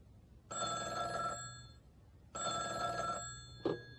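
A telephone rings twice with long, bright bell-like trills and a pause between them, clear and close, followed by a brief click as the call is picked up.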